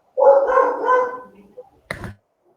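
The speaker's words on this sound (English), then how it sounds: "Say hi to the dog." Nearby, a dog lets out a drawn-out, whining bark and then, after a short pause, one sharp, abrupt bark. Everything around both sounds is quiet.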